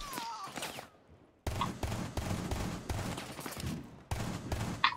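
Close bursts of gunfire from the video game Rainbow Six Siege, rapid rounds in several loud clusters separated by short gaps, with a voice briefly audible.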